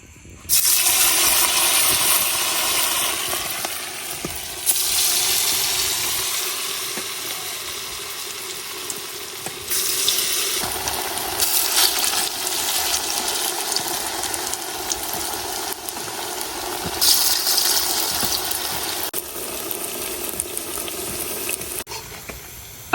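Potato pakoras with green chili and onion fry in hot oil, a loud, steady bubbling sizzle that runs close and continuous with occasional surges.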